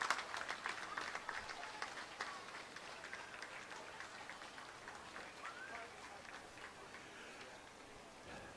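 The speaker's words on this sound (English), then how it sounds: "our honor guard is they get a nice applause, nice applause from the crowd." A parade crowd at a July 4th parade in Noblesville applauding the honor guard, with dense clapping that starts strongest and slowly thins as it goes on, with distant crowd noise beneath.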